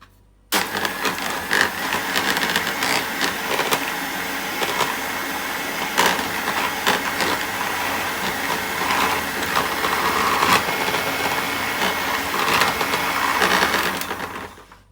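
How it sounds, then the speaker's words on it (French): A blender whirs continuously as it breaks up and mixes shea butter, loud and close, starting abruptly and running steadily with grinding, rattling texture for about fourteen seconds. "moi je vais le mixer"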